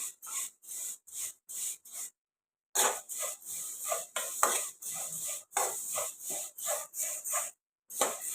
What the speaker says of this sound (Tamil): சேமியா இதை நல்லா செவக்க வறுத்துக்கலாம் தீயை வந்து குறைச்சி வச்சுட்டே வரேங்க